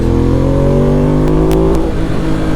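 A motorcycle engine revs loudly up close, its pitch climbing steadily through the gears as it accelerates, with wind rush in the background.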